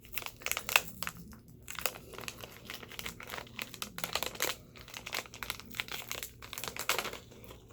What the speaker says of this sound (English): looks like I gotta rip it to get it out.